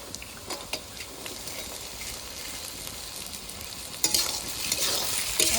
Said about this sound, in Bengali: নেড়ে চেড়ে ভালো করে টমেটো, গাজর, পেঁয়াজ কুচি, লঙ্কা কুচি ভালো করে ভেজে নিয়েছি।